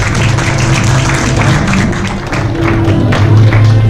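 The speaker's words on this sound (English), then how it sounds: "let's give him a round of applause" An audience giving a round of applause at a charity event, steady dense clapping throughout, fairly close and sustained.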